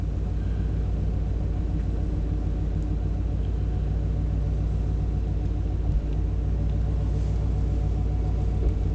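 Classic Chevy truck engine running rich and misfiring, a steady close low rumble with an uneven, faltering pulse running throughout.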